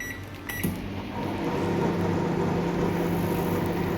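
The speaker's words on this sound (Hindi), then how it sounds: "माइक्रो फ़ैन इसका चल रहा है" A repaired microwave oven's fan hums steadily with a low motor drone, beginning with a faint click and settling into an even, continuous whir.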